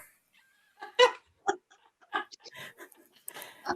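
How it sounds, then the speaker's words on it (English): A dog makes short, close bursts of whimpering and huffing noises in a quiet room, irregular and spaced out, reacting to something outside. "my dog is offended by something outside"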